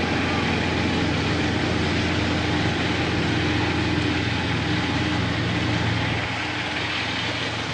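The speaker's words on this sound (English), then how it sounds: "There's too much noise from this tractor here right now" A tractor engine runs steadily and loudly throughout, a continuous low rumble with no pauses.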